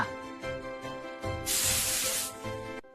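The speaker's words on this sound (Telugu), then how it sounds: "నేను యెల్లో కలర్ స్ప్రే తీసుకొచ్చా." A can of yellow Holi colour spray lets out one loud hissing burst in the middle, lasting about a second, over a quiet background with faint tonal music-like sound before and after.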